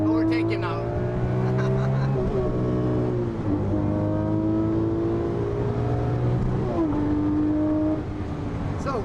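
A race car's engine on a track runs loud and close throughout, its pitch climbing and dropping sharply as it revs and shifts while overtaking another car.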